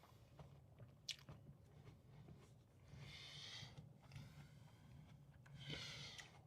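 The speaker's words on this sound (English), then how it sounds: "probably chewing in all y'all's ears" Close, quiet chewing of food right at the microphone, with wet squishy bites, soft crunches and mouth sounds continuing in an irregular rhythm, no talking.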